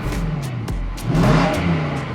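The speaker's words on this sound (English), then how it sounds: "Listen to the revs." Engine of a 2019 Nissan Titan pickup, repaired after a no-start fault with battery and crankshaft and camshaft sensors, revving up and settling, with a steady low idle under a strong rise in pitch at close range.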